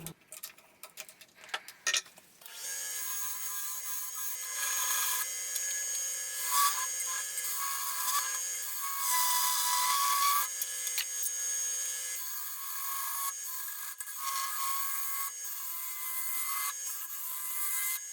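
Pecan wood bowl turning on a lathe, sped up, giving a dense continuous scraping and hissing of the tool cutting wood, fairly loud and steady after a brief start, with no talk.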